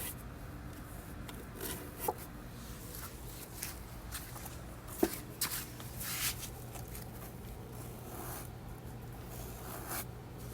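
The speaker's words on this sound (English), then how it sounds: "I'm going to use the sponge, but I'm still going to wring it out." A damp sponge scrubbing rust and caked flour off a Magic Mill wheat grinder, giving soft, irregular rubbing and scraping strokes with small clicks, close up and fairly quiet, with no talking.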